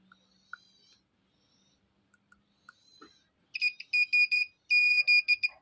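Multimeter continuity beeps while probes touch a component leg on a car tweeter: soft taps and clicks first, then a series of loud, sharp electronic tones, several short ones followed by two longer sustained beeps.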